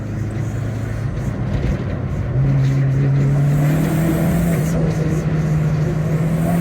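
A Vauxhall Nova with a C20LET engine conversion accelerates hard on a private road, its engine note rising into a loud, steady, climbing drone that fills the clip, with no voices.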